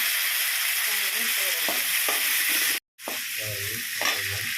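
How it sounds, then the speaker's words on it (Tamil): Curry with tomato and spices stirred in a frying pan, with a loud steady sizzle and periodic stirring scrapes, cut by a brief silent gap, then continuing close up. "நல்லா கிண்டவும் பேஸ்ட்டை போடவும்"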